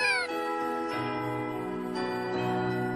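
A cartoon cat meows in long, drawn-out, tonal cries that repeat several times, loud and close, with a synthetic animated quality.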